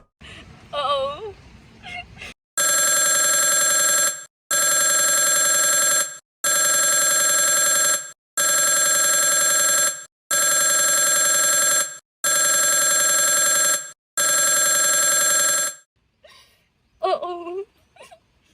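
An old-style telephone bell rings loudly in six long, evenly spaced bursts, with a woman's whimpering, anxious voice and sobs just before and after the rings.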